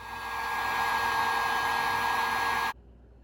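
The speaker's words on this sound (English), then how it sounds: "now I'm going to get my heat gun and shrink those heat shrinks" A heat gun blows hot air to shrink heat shrink tubing on wiring for a 24V trolling motor receptacle, a loud, steady, broad whooshing rush that holds for nearly three seconds, then cuts off abruptly.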